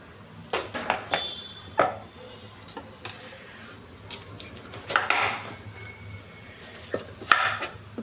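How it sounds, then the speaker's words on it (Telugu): A knife thinly slicing cabbage on a board for a fry, giving scattered soft crisp cuts and taps with pauses between, faint and close in a quiet kitchen. "ఇలా సన్నగా కోసుకోవాలండి."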